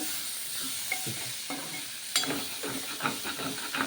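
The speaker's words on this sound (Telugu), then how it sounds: "దీంట్లో నేను దొండకాయలు వేస్తుందండి కొన్ని కలుపుడుకి" Ivy gourd pieces tossed into a pan of curry with tomato sizzle and hiss, followed by repeated stirring scrapes and clatter of a spoon against the pan.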